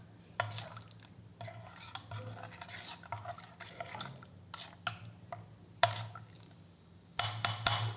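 Homemade cafe-style cold coffee stirred in a glass with a spoon, close clinking and tapping against the glass amid swishing liquid, in irregular bursts with a busier flurry at the end, and no talking.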